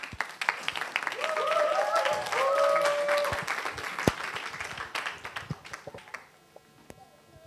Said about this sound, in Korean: 박수로 맞아주시겠습니다.